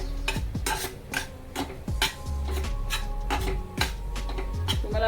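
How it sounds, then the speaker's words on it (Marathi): Spices, including garam masala and black masala, are stirred and sautéed in hot oil in a pan for soya keema, with repeated spoon scrapes and clinks over a low, steady sizzle. "असे सगळे मसाले आता तेलावर चांगले परतून घ्यायचे"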